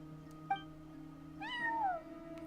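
A cat meows once in Genshin Impact, a rising then falling drawn-out call over a steady background hum, fairly faint and alone without any talk.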